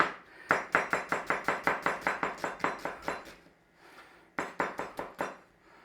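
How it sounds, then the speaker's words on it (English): A knife thinly slicing an onion on a board: a quick even run of crisp close chops, a short pause, then a few more rapid slices. "So we're just going to give this onion a thin slicing"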